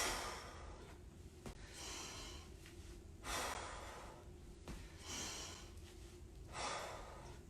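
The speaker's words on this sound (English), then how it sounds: "Inhale down. Exhale up." Heavy breathing during a lower-body leg exercise working the quads, with steady repeated inhales and exhales in a rhythmic cycle of roughly one breath every one to two seconds, close and fairly loud with no talk.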